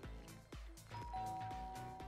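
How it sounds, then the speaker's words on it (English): Doorbell chime ringing inside a house in the video game GTA 5, a clear sustained ding-dong tone over low rumbling game music and effects, with no talking. "somebody rang my doorbell"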